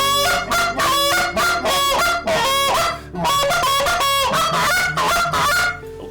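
An Alt A50 goose call blown in a long call routine gives loud, close, deep throaty honks in quick rhythmic bursts, with short breaks between runs.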